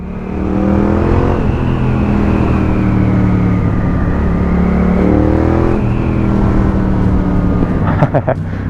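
Yamaha XSR 700 motorcycle engine revving steadily with rising and falling pitch, loud and close, with wind noise and a few sharp knocks near the end; someone talks over it in places.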